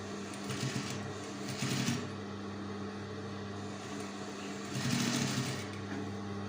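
A sewing machine stitches patchwork for a traditional Kazakh quilt, whirring in two short, loud bursts over a steady motor hum, close by with no talking.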